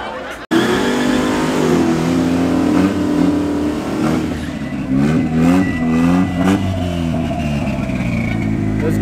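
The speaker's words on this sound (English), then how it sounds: "Once it gets off the line and gets traction, then it goes extremely well." Loud street racing cars, including a Volkswagen Golf, roar and rev hard as they launch off the line and accelerate in Johannesburg, the engine pitch climbing and shifting through gears, close by.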